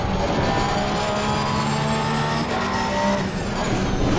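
Race car engines roaring at Brands Hatch in Assetto Corsa Competizione on console, a steady loud drone of several cars running close together with a Ferrari nearby, the sustained engine whine holding throughout with no talk.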